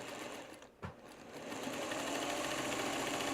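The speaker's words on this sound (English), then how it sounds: "take it to the sewing machine, and I'm going to start stitching in the crevice in that upper left-hand corner" A sewing machine stitches the binding of a quilt, its steady mechanical whir dipping briefly to a near stop with a soft knock, then surging back into a continuous close, even drone.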